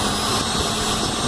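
A WT-500 homogenizer-emulsifier runs at high speed around 10,000 RPM, giving a loud, steady, close whirring roar with no break.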